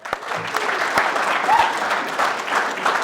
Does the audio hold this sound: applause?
yes